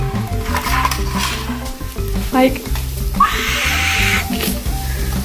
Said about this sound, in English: can you hear the sizzling of the tomatoes?